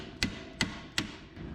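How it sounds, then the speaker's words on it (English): A hammer strikes parts of a 1961 station wagon during budget paint and body work: three sharp, loud, close blows at an even pace, with a quiet workshop background. "Hammer."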